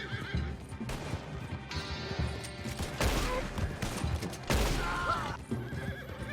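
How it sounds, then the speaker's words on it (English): Horses in the Western game Red Dead Online whinny loudly while hooves clip-clop in a fast gallop, joined by bursts of gunfire near the middle and end, with no talk. "Come on, you stupid horse."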